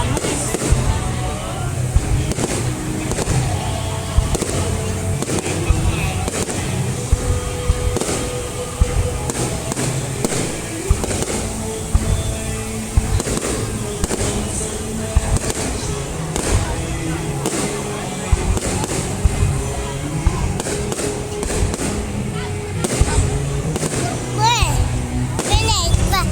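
New Year 2020 fireworks bursting over Yen Phong, Bac Ninh, Vietnam, a steady run of repeated booms and crackles through the whole stretch, with children and adults chattering underneath.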